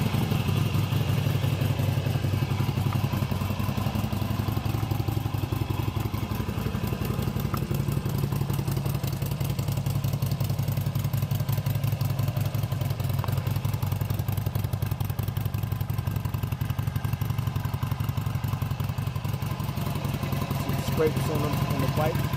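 A 2008 Harley-Davidson XL883 motorcycle engine idles steadily at a low, even putter for the whole stretch, with a faint mechanical clatter and no talking.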